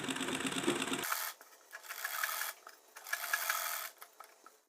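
Sewing machine stitching together the edges of a top's lining and main fabric, a faint whirring rasp that runs in two short bursts after a brief louder opening noise, with quiet pauses between.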